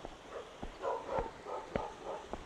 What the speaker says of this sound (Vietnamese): Chưa biết có người ở nhà hay không nhưng mà chó đã sủa rồi.